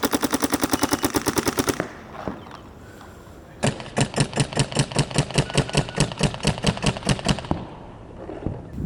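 Rapid, evenly spaced gunshots fired at an Aztec target on a shooting course layout, a fast burst, a short pause, then a second longer burst, loud and close with no talking.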